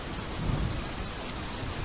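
Steady, loud wind and rain roar on the Blackpool promenade near Blackpool Tower during a storm, a constant broadband rush with a slight swell early on.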